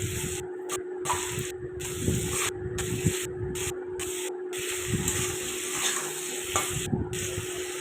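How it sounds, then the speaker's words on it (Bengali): Potatoes stirred and fried in a pan for a plain Bengali white potato curry, with a steady sizzle and repeated scraping strokes of a spatula, close and continuous with no talking. "এখন দেখো এখানে আমি আলুটাকে নাড়াচাড়া করে নিচ্ছি"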